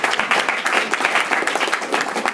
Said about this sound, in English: I think Warren deserves a big round of applause for taking this up